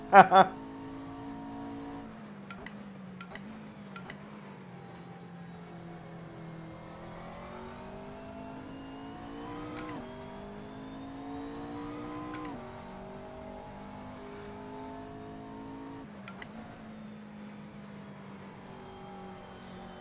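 A GT3 race car engine drones steadily in a racing video game, its pitch rising and falling as revs build and ease, with brief clicks at gear changes throughout.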